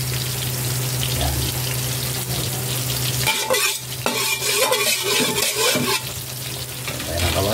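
Adobong kangkong, water spinach, being cooked in a hot pan with oil, giving a steady close sizzle with stirring and clattering of a utensil against the pan throughout, and no talking.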